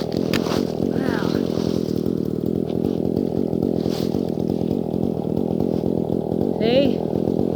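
Dolmar chainsaw cutting through a felled tree at the roots, a loud close continuous buzzing engine drone with steady rhythmic pulsing, a few faint voices underneath.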